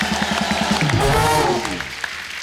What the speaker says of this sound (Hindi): जोरदार तालियां आयुष्मान खुराना के लिए।